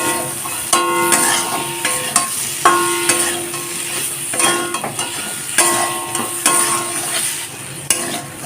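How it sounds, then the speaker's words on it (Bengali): Drumsticks and tomato cooking in a pan with sugar, salt, turmeric and chilli powder, giving a steady close sizzle broken by repeated spoon scrapes and clinks against the pan, with no talk. "এখন হালকা কষিয়ে নেব"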